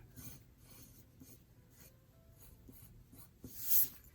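Soft scratchy strokes of an F pencil drawing on paper, faint and close, in short repeated bursts with a slightly louder rub near the end.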